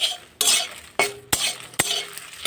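Dry red chillies and bay leaves fry in oil in a pan while a utensil scrapes through them in four sharp, separate strokes over a soft background sizzle.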